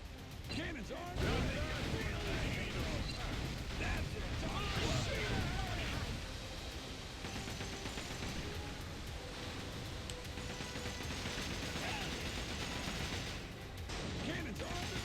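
Ship cannons firing during a naval battle in the video game Like a Dragon: Pirate Yakuza, set in Hawaii, a dense barrage of booms and crashes that runs unbroken under shouting voices and a music score.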